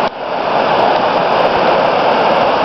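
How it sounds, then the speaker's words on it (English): Seguin Falls on the Seguin River pours down beside Highway 518, a steady, loud broadband roar of crashing water that holds constant throughout with no voices. "You can see the water crashing down right there, going underneath the 518."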